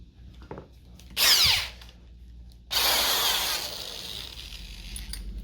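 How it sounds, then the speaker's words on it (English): A power drill bores into the wood of a DIY stool to sink buried screws, two loud whirring bursts of drilling, the second longer, close up and without speech, with quiet scraping and handling sounds between them. "Now I'm going to drill just enough that I can get a decent enough piece of wood filler in there"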